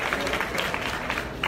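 A crowd at a youth-of-the-year award ceremony in Puerto Rico claps steadily and fairly close, a dense burst of applause with no talk over it.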